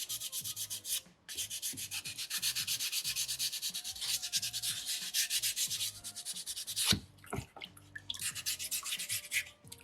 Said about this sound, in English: I'm just going to make sure I'm being nice and thorough with sandpaper number 2.